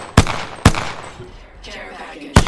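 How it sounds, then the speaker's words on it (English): Gunfire in the Apex Legends video game, three sharp loud shots spaced irregularly, with faint game effects between them. "Taking fire."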